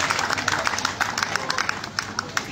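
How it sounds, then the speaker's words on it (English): An audience at a regional council ward development allocation programme claps in a round of applause, a dense patter of hands at moderate distance with a voice speaking over it. "I want you to take this round of applause"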